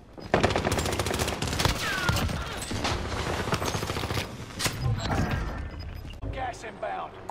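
Rapid automatic gunfire and scattered single shots rattle almost nonstop in a multiplayer shooter video game, loud and dense with bursts and brief pauses, while a player talks over the action.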